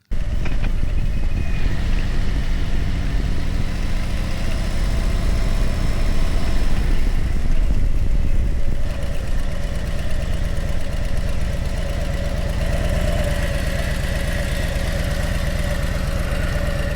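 A motorcycle engine idles steadily and close by, a constant low rumble that holds at an even loudness throughout with no talking over it.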